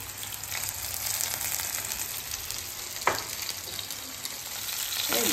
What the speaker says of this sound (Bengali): তেল গরম হয়ে এসেছে, এই আমুদি মাছগুলো ছাড়বো।